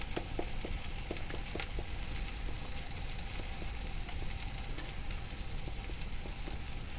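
Onions frying in a pan for homemade burgers, a steady close sizzle with a run of light scraping stir strokes throughout and no talking.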